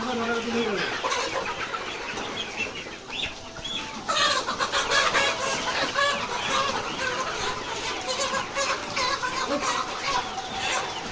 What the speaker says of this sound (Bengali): আমাদের মুরগি ধরার কাজ চলতেছে